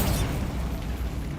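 A Bombarda spell explodes in the video game Hogwarts Legacy, giving a single dense, booming blast that rumbles on without a break for its short length, loud and close.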